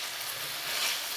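Summer squash, red peppers and garlic sautéing in a pan over high heat, a steady close sizzle with light stirring, brief and unbroken.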